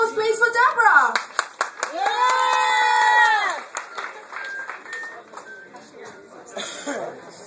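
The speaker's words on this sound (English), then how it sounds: "big round of applause, please, for Deborah" A karaoke crowd claps and cheers for singer Deborah, scattered clapping mixed with a sustained whooping voice and talk, the clapping tapering off partway through.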